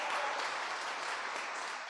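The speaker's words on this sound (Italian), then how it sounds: "Vogliamo fare un applauso alle sorelle che" A church congregation at a Sunday service applauds in a continuous, dense wash of clapping that stays even throughout and dips slightly near the end, with no speech over it.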